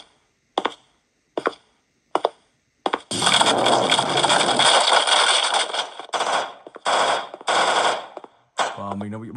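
Gunfire in a Siren Head horror video game: a few sharp separate shots, then a long loud sustained burst of rapid automatic fire, followed by shorter bursts and a final shot, all close and prominent.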